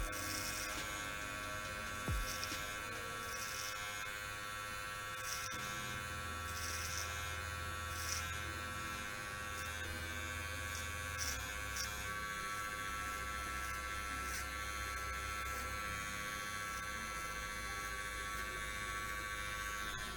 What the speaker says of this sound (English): I'm also trying to kind of flick away and go outward with the clipper